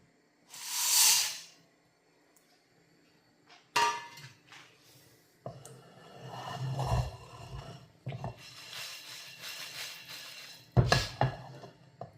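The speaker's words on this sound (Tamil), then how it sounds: "வெறும் வானல் சூடு பண்ணி அதில் அப்படியே இதை வந்து வறுத்துக்க வேண்டியதான்" Whole spices dry-roasting in a hot, oil-free pan for a kurma, heard as a burst of hiss followed by repeated scraping, stirring and clattering against the metal, fairly close with uneven bursts.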